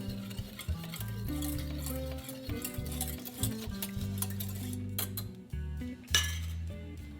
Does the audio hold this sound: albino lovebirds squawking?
no